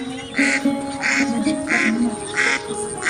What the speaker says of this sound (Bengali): হাঁস ডাকছে।